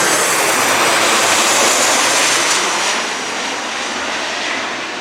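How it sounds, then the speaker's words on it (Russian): Low-flying airplanes pass overhead on Santorini, Greece, a loud, steady broadband jet roar that fills the clip and eases slightly toward the end, with no talking. "Летают самолеты, и это небезопасно."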